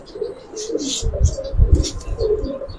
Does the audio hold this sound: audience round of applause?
no